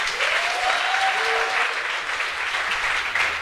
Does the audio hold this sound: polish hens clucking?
no